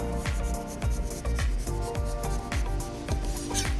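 A knife peels a honeydew melon in a sawing motion, giving rhythmic rasping strokes about twice per second, close and clear with no talking.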